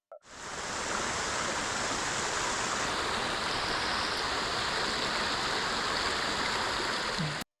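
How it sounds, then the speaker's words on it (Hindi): Rushing water roaring at a large stone lingam-like structure, a loud unbroken broadband rush like a powerful stream or waterfall, constant and close with no talk after a brief opening. "मैं माइक बंद करने जा रहा हूं ताकि आप पानी की असली, औद्योगिक गर्जना सुन सकें।"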